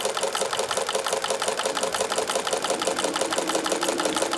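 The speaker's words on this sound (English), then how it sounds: "there's the distinctive noise of the Singer Walking Foot" A Singer walking foot sewing machine stitches steadily, its fast, even mechanical clatter repeating at a constant rhythm, close and moderately loud with no voices.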